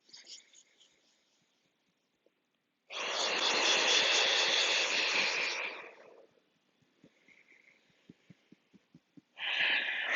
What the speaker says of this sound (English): These cleansing breaths.